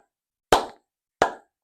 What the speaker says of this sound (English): then I'm going to start clapping.